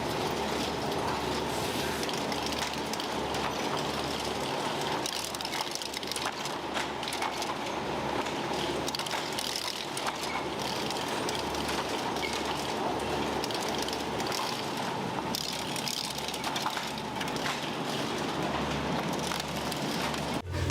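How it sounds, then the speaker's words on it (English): Egg sorting and packaging machinery rattles and clatters continuously, with dense ratcheting mechanical ticks over a steady low hum at moderate loudness and no speech. "the eggs are fed into machines to be sorted into different sizes and carefully packaged"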